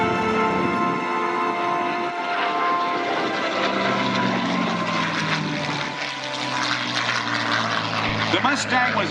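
A P-51 Mustang propeller fighter at the Thunder over Michigan airshow drones loudly and steadily, a rich engine tone with shifting pitch sustained throughout, with a voice talking over it.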